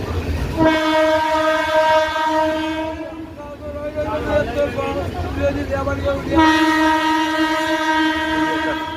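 A running train sounds two long, loud horn blasts, one at the start and one near the end, over a steady rumble of rolling railway cars heard from on board during a daily journey.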